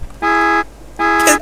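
A car alarm blares inside GTA San Andreas Multiplayer, two loud steady electronic tones each lasting about half a second with a short gap between them, and a brief burst of noise at the end.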